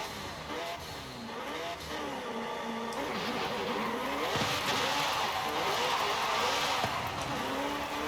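Modern supercar in the Forza racing game accelerating hard with rising and falling engine revs and some tire squeal, loud and continuous with no talk.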